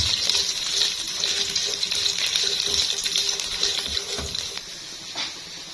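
Almonds and other nuts fry in a pan of hot oil, a steady bright sizzle with light stirring clinks running continuously and close, no talking.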